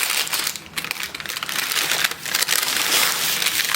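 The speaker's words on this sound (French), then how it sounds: "On va enlever le papier." Baking paper is peeled off a freshly baked flourless, dairy-free loaf, giving a continuous close crinkling and crackling rustle that rises and falls for several seconds.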